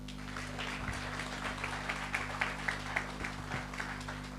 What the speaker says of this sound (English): I want to believe that you want to clap some more.